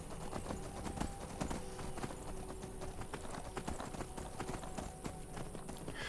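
A demonic horse from modded Skyrim gallops steadily, its hooves clip-clopping in a fast rhythm against a dense wash of game ambience and music, with no speech.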